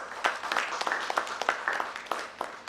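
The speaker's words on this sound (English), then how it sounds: "Give him a huge round of applause." Audience applause at an education summit as a university vice chancellor is welcomed, a fairly faint, uneven patter of hand claps with irregular louder bursts, no talk heard over it.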